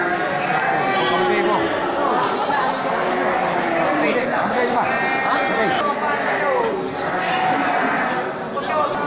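Goats and sheep bleat again and again, crowded and close together, at a livestock sale. Voices chatter in the background throughout.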